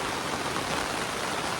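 Steady rain falling outdoors on a rainy evening in the Konkan countryside, a dense continuous hiss at an even loudness with no voices.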